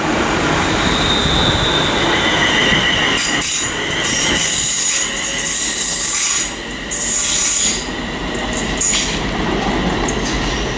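A ScotRail passenger train passes through Haymarket station in Edinburgh, with a loud, close, continuous rumble of rolling wheels and repeated high metallic wheel squeals over about ten seconds, and no voices.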